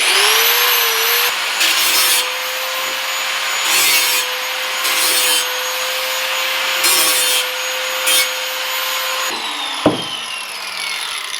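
Burrs are sanded off a piece of wood with a power tool, a loud steady high whine broken by repeated rasping bursts as the tool presses against the wood, then a short clatter near the end.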